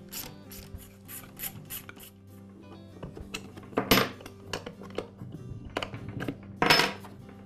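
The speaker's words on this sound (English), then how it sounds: "I can remove the rest of the pump cover. It's held in place with just a couple more bolts." Bolts come off the pump cover of a Campbell Hausfeld air compressor, with close ratchet clicking in quick runs, metallic clinks of tools and parts, and a few louder clatters as pieces are set down.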